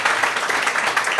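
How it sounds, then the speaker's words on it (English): Audience applause at a live event, a dense burst of many hands clapping, loud and steady over about a second, heard on its own. "can I have a round of applause for Gaz and Joelah?"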